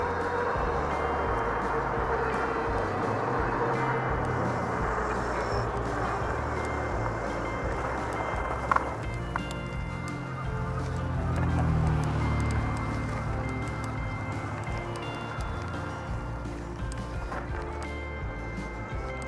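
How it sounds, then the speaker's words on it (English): Vehicles pass along a country road during an e-bike ride, a continuous close rumbling road noise that swells and fades slightly as traffic goes by, steady throughout with no talking. "I had some vehicles coming up"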